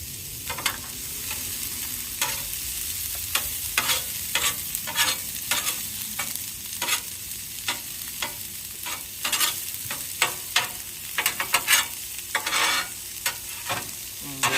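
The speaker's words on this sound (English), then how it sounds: "We're gonna let these peas and carrots just cook a little bit." Peas and carrots frying in oil in a pan for chicken fried rice: a constant close sizzle, broken by repeated sharp scraping and clacking strokes of a stirring utensil throughout, with no talk.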